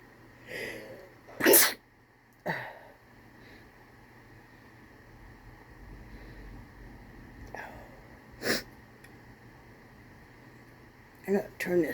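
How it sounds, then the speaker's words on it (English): Several sharp, sudden sneezes from one person sitting by a fan while winding yarn, spaced irregularly across the stretch with quiet breathing and sniffing between bursts. "I'm going to sneeze."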